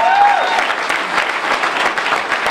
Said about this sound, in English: Give the NAACP a hand clap for that.